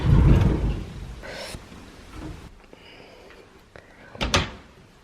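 A wooden wardrobe door in an old house creaks and bumps as it is opened, a few short knocks and scrapes at close range, heard alone with no talk.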